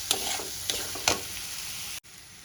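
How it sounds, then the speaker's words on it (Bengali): Fenugreek leaves sizzle with spices in a pan, with a steady frying hiss and three sharp spatula-stirring scrapes before the sound cuts off abruptly near the end. "মেথিটা দিয়েও আমি ভালো করে কষিয়ে নেব"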